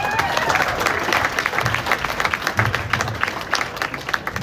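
A banquet room full of people applauds, dense clapping that swells and thins slightly as it carries on, with a few voices mixed in.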